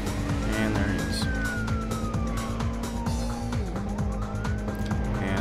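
Police car siren wailing in Midnight Club II, a steady rising and falling tone held loud over a constant roar of game engine and music for the whole stretch.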